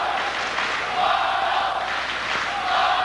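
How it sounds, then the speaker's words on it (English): A crowd at a 1992 Olympic heavyweight boxing semifinal chants in rising and falling waves, loud and sustained, filling the arena with no single voice standing out. "The chant of Arnold for Vanderlijde in the red, Savon in the blue"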